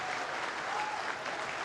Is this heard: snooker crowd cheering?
yes